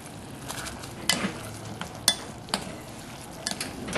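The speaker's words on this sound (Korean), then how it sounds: "자, 여기에 아까 구워놓은 고기 있죠? 고기를 넣어서 이렇게 소스를 묻혀줘요." Grilled pork chops being tossed and coated in barbecue sauce in a pan, with soft stirring scrapes, a few clinks of a utensil against the metal and a faint background sizzle, close and fairly quiet.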